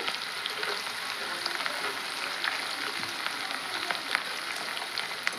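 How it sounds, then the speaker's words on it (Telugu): Onion pieces fry in a pan, a continuous close crackling sizzle with small pops scattered throughout and no voices. "ఒక ఉల్లిగడ్డ కట్ చేసి ముక్కలు అయితే వేసాను"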